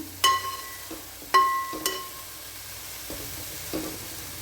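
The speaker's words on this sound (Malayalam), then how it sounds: "നമ്മൾ ഉപ്പരിക്കൂട്ടാനൊക്കെ ഇളക്കുമ്പോൾ ഇതേപോലെ വേണം നമ്മൾ ഇളക്കി യോജിപ്പിക്കാനായിട്ട്" Stir-fry of plantain peel and beans in a pan, turned in a few gentle scrapes and taps with some brief metallic clinks over a soft background hiss. Nearby, quiet, with no speech.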